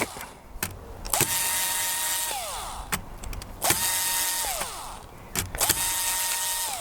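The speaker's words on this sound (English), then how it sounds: "It's much easier doing it with an electric screwdriver." An electric screwdriver loosens screws under a layout baseboard in three close whirring bursts, each rising, holding, then winding down, with clicks and handling knocks between them.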